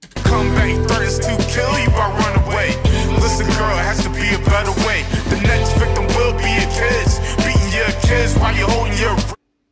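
Loud, dense mixed music plays steadily for about nine seconds with constant bass and punchy rhythmic accents, cutting off cleanly at the end.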